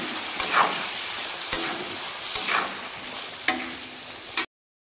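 Potatoes and pointed gourd with turmeric are stirred in a pan: four spaced scrapes of a spoon against the pan over a low sizzle, close by, with no voices, ending abruptly.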